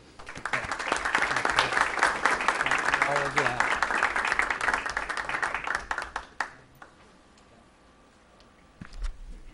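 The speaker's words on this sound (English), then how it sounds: "we'll give you a round of applause" A room of people at a city commission meeting applauds in a burst of steady clapping that gradually thins out and stops, followed by quiet with a few scattered sounds.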